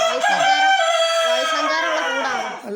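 A native country rooster crows once, loud and near, in a long drawn-out call that fades at the end.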